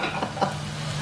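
Chinese cabbage, egg and hotdog stirred in a hot pan, a soft scraping stir over a continuous sizzle, close and brief.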